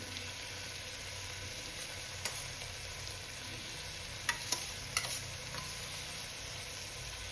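Curd being stirred into a one-pot jackfruit and mushroom biryani, giving a steady sizzling hiss with a few soft spoon clicks against the pot, fairly close and without talk.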